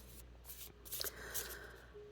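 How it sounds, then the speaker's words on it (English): A deck of tarot cards being shuffled close by, a few quick riffling bursts and soft paper flutters over a quiet room, brief and gentle. "I'm going to shuffle the cards a little bit"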